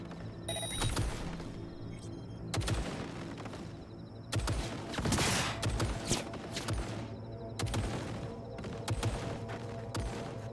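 Automated turrets in Cyberpunk 2077 fire in repeated sharp bursts, some loud and close, over a steady mechanical hum and busy game ambience.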